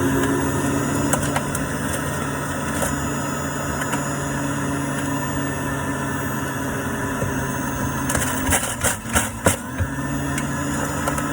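An electric juicer grinds a batch of spinach with a steady, loud motor drone, and a cluster of sharper bursts near the end as more leaves are pushed through.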